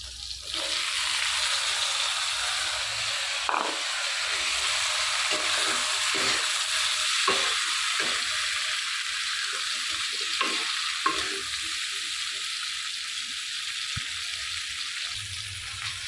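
Green chillies and fried fish sizzling in a hot pan on a home stove, a steady close hiss and crackle that runs throughout with occasional stirring scrapes and clinks.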